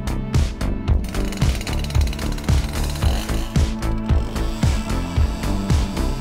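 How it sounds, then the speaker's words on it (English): A Husqvarna T540 XP Mark III chainsaw with AutoTune runs loud and close, its two-stroke engine revving up and down in a repeating cycle throughout, with no voices. "automatically tunes the air-fuel mixture to ensure the saw is always running at its peak performance"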